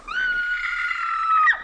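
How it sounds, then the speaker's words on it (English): A person screams for help in a radio drama, a single sustained high-pitched cry lasting over a second that cracks and breaks at the end, loud and close with no other voices. "Look, start screaming."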